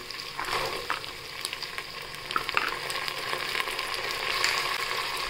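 Peas frying in hot oil with onion, cashews, green chillies and garam masala for a peas paneer pulao, giving a steady close sizzle with occasional stirring clicks and no talking.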